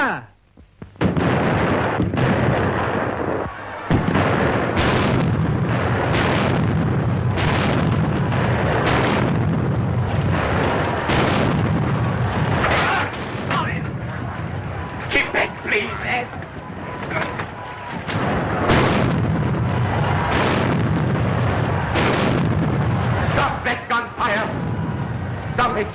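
Artillery guns fire in a film battle scene, a dense run of loud booms and explosive bursts repeating every second or two for the whole stretch, with shouted voices mixed in among the blasts.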